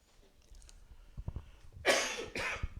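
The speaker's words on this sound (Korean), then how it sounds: "변함없이 제가 기침을 합니다." A man coughs twice in harsh, close bursts during a Wednesday evening church service, with a few soft knocks and breaths before them.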